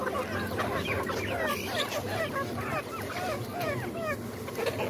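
Chickens cluck close by in a busy, overlapping chorus of short, repeated calls that continue steadily over a low background murmur.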